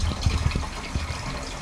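Water gushes and sloshes as it is dumped out of a tank, a close, steady rush with a few heavier low splashes near the start.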